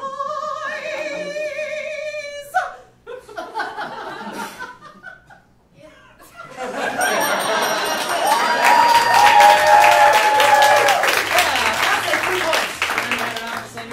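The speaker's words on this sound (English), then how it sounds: "Based on that applause" After some laughter and a brief voice, an improv comedy show audience breaks into sustained applause with cheering, loud and continuous to the end.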